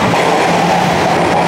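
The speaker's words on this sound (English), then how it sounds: "I'm gonna take the subway to a street called Finch in Toronto" A Toronto subway train runs on its rails with a loud, constant rumbling roar heard from on board, steady throughout with no talking.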